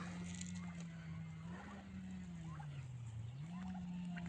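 Farmyard turkeys in a Turkish village gobble in short bursts over a steady droning hum, fairly close and moderately loud.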